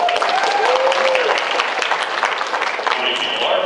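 Applause from a convention panel audience at New York Comic Con, a short burst of clapping filling the room while a voice carries over it.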